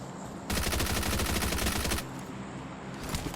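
A sustained burst of rapid automatic gunfire rattles out for about a second and a half to knock down an enemy in a battle royale game, followed by quieter ambient game noise and a few scattered shots.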